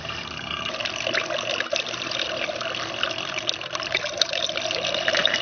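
Water swirls and flushes through a fine gold recovery bowl holding garnets and flake gold, a steady, close, hissing wash with bubbling detail that runs the whole time without talk.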